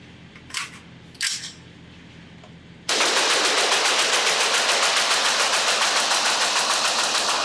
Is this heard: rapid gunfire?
yes